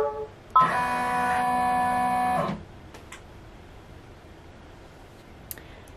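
An embroidery machine running a placement stitch on an in-the-hoop zipper pouch, a loud whirring, tonal mechanical drone lasting about two seconds, then quiet room hiss with a faint click.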